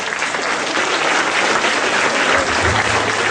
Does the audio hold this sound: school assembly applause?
yes